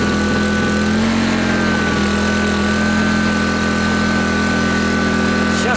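A GENERGY IBIZA 1.0 kW inverter generator runs at a steady, loud drone with a constant engine hum that holds unchanged throughout, with no voices over it.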